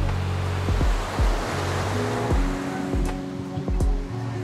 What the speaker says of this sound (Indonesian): Anginnya lumayan kenceng sih.